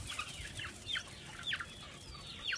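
Free-range chickens on a farm clucking, several short rising calls repeating roughly every half second over faint outdoor background noise.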